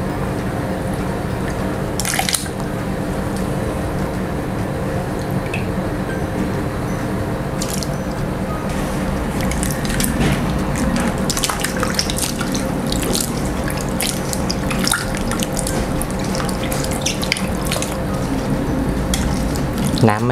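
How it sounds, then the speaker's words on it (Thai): Soaked potato slices rinsed under a running kitchen tap, a loud, constant rush of water with intermittent splashes and drips as the slices are moved around, continuing without a break. "เอามาล้างน้ำเปล่าอีกสักรอบนึงนะ"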